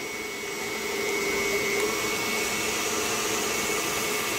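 An electric mixer beats egg whites with a pinch of salt at high speed, a steady, loud, continuous whirring drone that holds nearly constant for several seconds with no talking.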